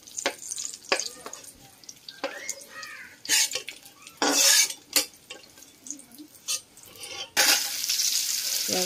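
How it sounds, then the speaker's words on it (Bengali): Vegetables frying in hot oil in a wok, with bursts of loud sizzling as pieces go in, separated by quieter stretches of faint crackle, spatula scrapes and knocks, close by. "তারপরে আস্তে আস্তে সব সবজিগুলো ভেজে নেব।"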